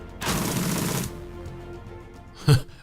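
A long burst of AK rifle fire in the Shadowrun Dragonfall video game, a dense rattling volley lasting about a second, followed by quieter background noise and one sharp single crack near the end.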